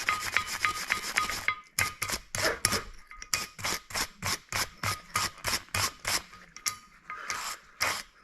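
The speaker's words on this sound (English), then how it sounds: "we'll give it a good scrub in here to" Scrubbing a restored Columbian 603-1/2 bench vise, close rhythmic back-and-forth rasping strokes, fast at first then slower and evenly spaced, with no talking.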